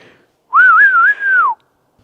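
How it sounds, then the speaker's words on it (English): A single clear, wavering whistle in the dark rises and dips over about a second, standing alone against near silence. "That was a clear as day whistle."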